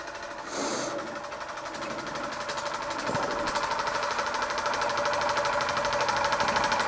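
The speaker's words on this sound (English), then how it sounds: "Little scratch-built oscillating engine of unknown origin, running under steam for the first time since I've restored it, and running lovely." A small scratch-built, Mamod-style oscillating model steam engine running under steam, ticking in a fast, even rhythm close by that holds steady and grows slightly louder.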